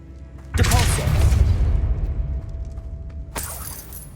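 Depulso spell cast in the video game Hogwarts Legacy, a sudden loud whooshing boom with a crashing, shattering tail that fades over a few seconds, followed by a second sharper burst.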